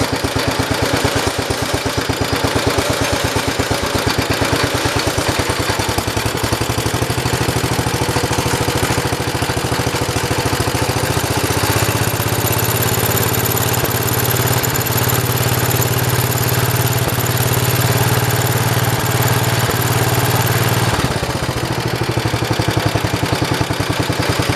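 A 1973 112 engine, freshly worked on at the carburetor, runs loud and steady for a long stretch. Its tone rises as the throttle opens, then briefly drops near the end.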